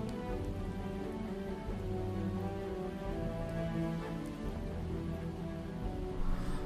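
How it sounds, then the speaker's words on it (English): Steady rain falls in the survival video game Project Zomboid, a continuous patter that stays even throughout, layered over a constant tonal in-game background with no talking. "Now we're getting rained on."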